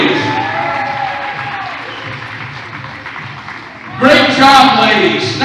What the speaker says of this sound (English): Let's have one last huge round of applause for our Lakeside Golden Eagles freshmen and their families